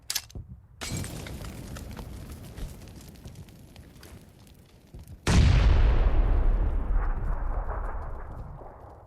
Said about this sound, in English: He threw a nade.